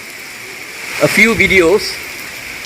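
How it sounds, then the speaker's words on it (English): Heavy rain falls on a forested area in Singapore in the daytime, a steady, close hiss throughout while someone speaks briefly over it. "now I'm doing a video on observing a forested area during a heavy rain"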